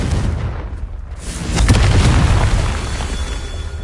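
A Confringo spell in Hogwarts Legacy goes off as a loud, booming blast that swells and then lingers in a dense, rumbling wash, with no talk.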